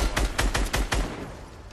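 Video game gunfire in an arena shooter, a rapid burst of about six loud close shots in quick succession, then a fading reverberant tail.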